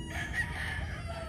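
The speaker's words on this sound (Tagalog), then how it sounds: "Puro tilaok ang marinig natin dito sa farm." Roosters crowing at a gamefowl farm, a sustained cock-a-doodle-doo over a steady outdoor background, fairly close and moderately loud.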